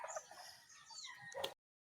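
Chickens cluck and squawk close by in a short, busy burst that cuts off abruptly.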